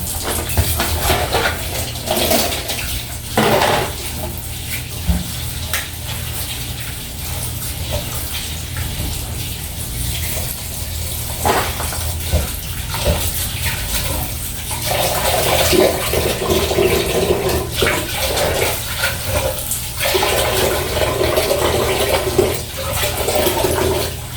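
Labong (bamboo shoots) and saluyot leaves being washed in water, with continuous splashing, gushing and sloshing close by for over twenty seconds, growing busier in the second half.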